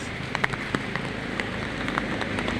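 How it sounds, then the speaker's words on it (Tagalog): Rain falls outdoors ahead of an approaching storm, a soft steady patter with scattered sharper drops tapping on surfaces, faint and continuous. "Umuulan dito guys, may bagyo pang parating guys."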